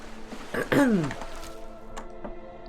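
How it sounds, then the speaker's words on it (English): One short, rough throat clearing rises up close, followed by faint soft rustling and quiet clicks. "I may be clearing my throat a number of times"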